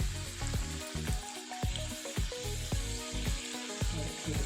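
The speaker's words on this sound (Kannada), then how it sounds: "ಎಣ್ಣೆ ಚೆನ್ನಾಗಿ ಗುಳ್ಳೆ ಬರ್ತಾ ಇದೆ" Garji kaayi, a sweet Karnataka fried dumpling, frying in hot oil, with steady bubbling sizzle and repeated soft pops and crackles close by, no talk over it.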